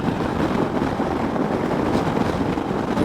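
Strong crosswind buffets a motorcycle rider's microphone on a Mumbai–Ladakh bike trip between Rajasthan and Chandigarh, a loud, steady, close roar of broadband rushing without a break and no voices.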